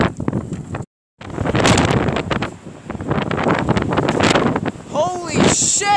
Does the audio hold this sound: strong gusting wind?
yes